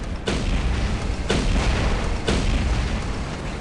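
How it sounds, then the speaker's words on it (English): Corrosion weapons firing in the War Robots video game, three loud booming blasts at roughly one-second intervals, each a sharp burst trailing into a dense, sustained roar of battle noise. "You can see the corrosion weapons are doing damage to me."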